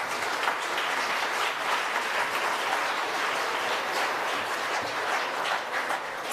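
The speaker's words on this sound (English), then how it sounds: "Please give yourselves a round of applause" Sustained audience applause at a national architecture awards ceremony, a dense, even roar of many hands clapping at steady loudness throughout, with no speech over it.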